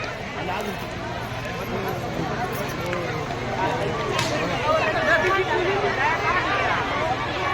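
A dense crowd of pilgrims climbing uphill at the Shepuzari yatra near a holy river site: steady, close babble of many voices, footsteps and general hubbub throughout.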